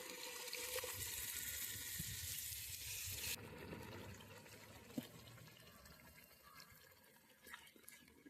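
Tamarind water pours and splashes steadily into a cooking pot for a few seconds, then quiets to faint sloshing and light clinks, fairly soft and close.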